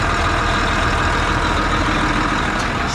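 Hydraulic pump running on a Ford F700 dump truck, a steady broadband mechanical drone layered with the truck's idling engine, loud and constant throughout with no talk.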